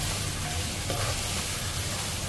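Spices fry in a pan for a sour fish curry with salt and turmeric, making a dense, loud, continuous sizzle close by with faint stirring underneath and no talk.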